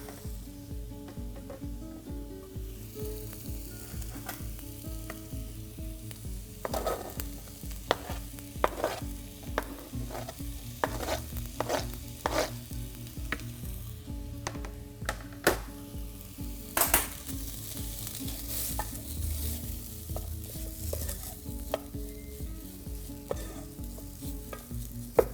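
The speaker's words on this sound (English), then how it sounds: "So just turning over the turkey so that it's cooked on or browned on all sides" Turkey pieces brown and sizzle in a hot pan for a turkey curry, a steady frying hiss broken by scattered clanks and scrapes of stirring.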